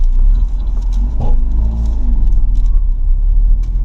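A 1992-93 Acura Integra GSR accelerating, heard as a loud, steady engine rumble from inside the car, a continuous low drone with a brief dip and slight rise in tone.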